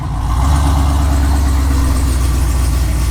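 A Camaro with a built, cammed motor and Whipple supercharger runs steadily and loudly up close, a deep continuous engine drone with a slight lift at the start, no talking over it.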